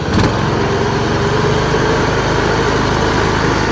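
A Troy Bilt Pony lawn tractor engine idles with a steady, loud, even putter that runs throughout with no voices.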